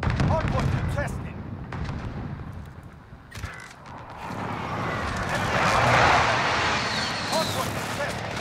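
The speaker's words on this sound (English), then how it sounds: "Enemy precision airstrike, take cover!" Precision airstrike explosions in a multiplayer Hardpoint match of a shooter video game, a continuous heavy rumble of blasts and gunfire that swells and fades, with voices talking over it.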